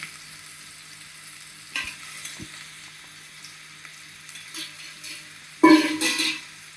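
Ginger paste and oil sizzle softly in a pan while being stirred for a Telangana-style chicken curry. There's a low steady fry, a few spoon scrapes, and a louder burst of sizzling near the end.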